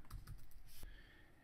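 Quick keystrokes on a computer keyboard as an event name is typed, several rapid taps close together then stopping, soft and alone with no talk.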